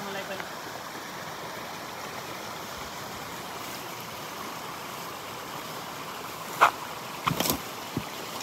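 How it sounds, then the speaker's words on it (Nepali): Water arriving and flowing in a village irrigation channel, a steady broadband rushing wash heard throughout at moderate level, with a few brief knocks near the end. "रातै पानी आयो"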